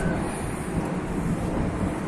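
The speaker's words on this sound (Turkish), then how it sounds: "Bakın tramvay da geldi." A broad, steady rumble with rushing noise fills the space as a tram arrives close by outdoors in Konak Square, İzmir, with no clear talk.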